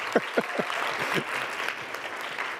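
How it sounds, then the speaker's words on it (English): Audience applause at a climate plan presentation, a few loud individual claps up front, then a sustained, fairly even patter of many hands filling the room to the end. "Round of applause, ladies and gentlemen."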